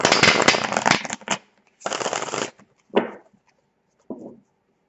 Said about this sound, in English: I'll shuffle the cards, and then when I'm ready to pull, I pull from the top.